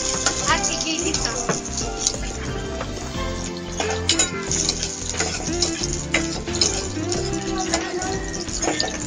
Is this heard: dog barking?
no